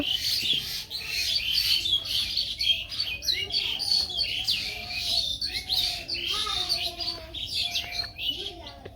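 Many small birds chirping and twittering busily in the morning, dense overlapping calls close by, with a human voice faintly mixed in at times.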